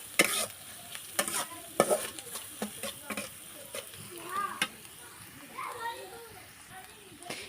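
Ground cumin, coriander and a little dried chili powder are stirred and fried in a pan for a mini singara filling, giving repeated scraping strokes and soft sizzling, with children's voices in the background.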